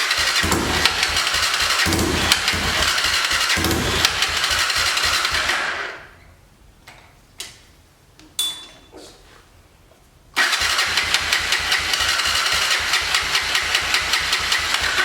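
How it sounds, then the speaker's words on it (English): A Honda TRX300EX four-wheeler with a likely gummed-up carburetor cranks repeatedly in a fast rhythmic churn, stops for a few seconds with faint clicks and movement, then cranks again, close and loud, without catching. "Key is on, choke is supposedly on. Got a pop."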